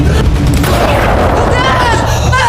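A heavy boom from a shotgun blast in a gangster film, loud and dense, with a film soundtrack and a voice running under and over it.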